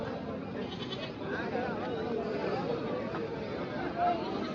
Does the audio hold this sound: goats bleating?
yes